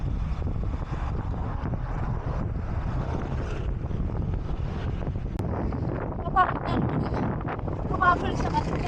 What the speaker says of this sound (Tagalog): Kasi ang lakas ng hangin.